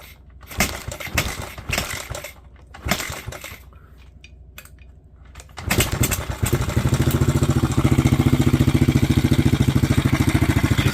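A Kawasaki KLX 110 dirt bike, sitting unused for years and with a leaking carburetor, sputters through a few uneven bursts, then catches and settles into a loud, steady, fast idle that runs alone to the end.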